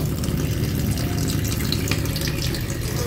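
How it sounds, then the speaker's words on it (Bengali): Water gushes steadily from a tap as someone washes their face at a sink, a loud, continuous splashing rush that lasts the whole time. "জাস্ট আগে একটু মুখটা ধুই"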